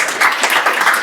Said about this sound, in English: Can we give a warm applause to Charli and Sylvia